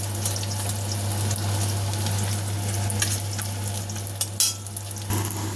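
Katla fish sizzles steadily in hot oil, with a constant crackling hiss, occasional sharper pops, and a low hum underneath.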